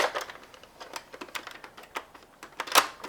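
Cocking a NERF sniper blaster yields a run of small plastic clicks and rattles, close and fairly quiet, with one sharper, louder snap near the end.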